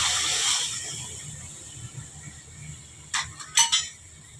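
Milk tipped into hot caramelised sugar in a pan, a broad steamy hiss that fades away, then a few sharp clinks of a utensil against the vessel near the end.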